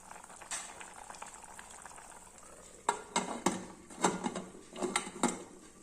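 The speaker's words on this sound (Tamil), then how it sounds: "கொதிக்க ஆரம்பிச்சு பாருங்க" A pot of tomato rice mixture bubbles at a steady boil, with soft gurgling and a series of popping bursts that grow more frequent.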